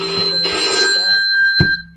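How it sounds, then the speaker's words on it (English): A telephone rings loudly and close by with a steady electronic tone, then cuts off abruptly near the end, with no talking. "There was the phone ringing."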